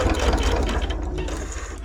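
A domestic sewing machine runs a short burst of back stitching through fabric, a steady close mechanical whirr with rapid rhythmic clatter lasting under two seconds.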